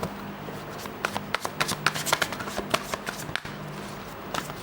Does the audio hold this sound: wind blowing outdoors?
no